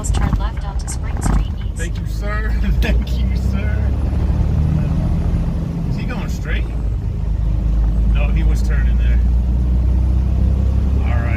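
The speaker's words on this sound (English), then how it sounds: "There is a truck coming." A truck approaches and passes on a road on a detour route near a closed bridge, a loud rumbling engine swelling and fading up close while people talk over it inside a vehicle.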